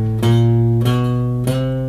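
The guitar spider warm-up exercise, a finger exercise moving across the strings: three clearly plucked notes at an even pace, each ringing with strong sustained overtones, close and alone.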